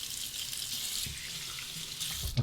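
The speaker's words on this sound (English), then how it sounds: "A quick face rinse." Tap water running into a sink for a quick face rinse while shaving, a steady close hiss of flowing water with a brief splash near the end.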